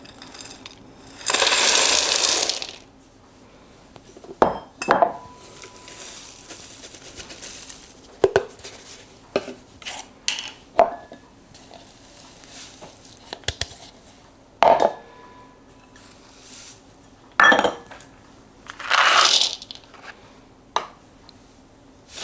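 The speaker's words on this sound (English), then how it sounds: "I'm just going to mix everything together." Dried herbal tea ingredients tossed together in a bowl, with bursts of dry rustling and crinkling plus scattered light clinks and taps, loud and close, separated by quieter pauses.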